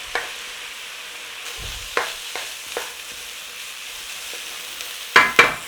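Carrots and other vegetables frying in a pan, a soft steady sizzle with a few stirring scrapes and knocks, close and loud, with two sharper clatters at the end.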